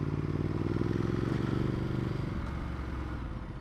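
Motorcycle engine skipping and running rough, a close, loud, continuous throbbing drone with an uneven, stuttering pulse that eases slightly toward the end.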